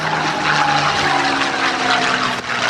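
Loud droning engine of a propeller fighter plane flying at the 2008 NAS Oceana Airshow, a sustained roar with a steady tonal hum that holds level before a slight dip near the end.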